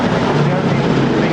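Engines of a B-17 bomber trailing smoke from its two left-hand engines at a 2005 Woodchurch air display drone loudly and steadily, a dense, unbroken roar for a short moment.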